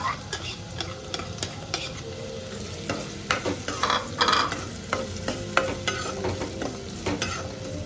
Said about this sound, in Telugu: ఆనియన్స్ వేసుకొని వేయించుకోవాలి దోరగా